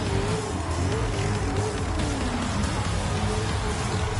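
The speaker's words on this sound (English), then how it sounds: "Everyone revving is just wasting their fuel" Several race car engines revving in the GT Sport video game before a race start, a steady dense engine roar held throughout at close range with no speech.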